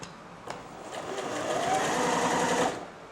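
A Janome 760 sewing machine hums steadily as it shifts its needle position from side to side, the motor whir swelling through the middle and cutting off near the end, close and alone.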